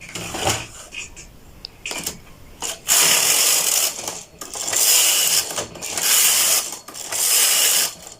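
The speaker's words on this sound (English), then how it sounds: "4 rows of the main carriage." A knitting machine's main carriage is pushed across the needle bed for four rows, giving loud, close mechanical rattling and ratcheting passes separated by short pauses, with softer clicks before them.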